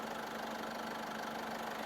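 Isuzu Mu-X 1.9 diesel engine from a 2020 family SUV idling, a steady, even rumble with a constant low hum and faint rhythmic knock, close and unbroken, with no talking.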